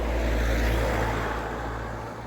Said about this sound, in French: Ah, il y a un peu de circulation aussi.